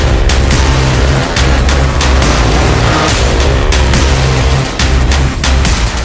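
TVS Apache motocross motorcycle engine held at full throttle, a loud, dense, continuous roar close by with slight pulsing dips, no talking over it.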